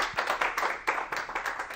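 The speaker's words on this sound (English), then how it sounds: "if you could join me in giving Serena a big clap for a great presentation" After a lunchtime lecture presentation, the audience gives a short burst of applause: brisk, dense clapping with sharp individual slaps standing out, close and fairly loud throughout.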